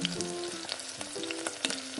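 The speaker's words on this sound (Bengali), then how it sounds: "ডিম ভাজা তেলের মধ্যে দিয়ে দিলাম আরও কিছু তেল। এবার দিয়ে দেব তেলের মধ্যে গোটা" Whole cumin seeds frying in oil left over from frying eggs, a steady bright sizzle with crackles and a few stirring scrapes, close and continuous.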